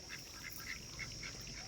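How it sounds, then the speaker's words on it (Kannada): Several ducks at a small city zoo in Gadag let out a few short, faint quacks in quick succession over a quiet, hissy background. "ಇಲ್ಲಿ ನೋಡಿ ಸ್ನೇಹಿತರೆ, ಬಾತುಕೋಳಿಗಳು ಅದಾವ ಇಲ್ಲಿ"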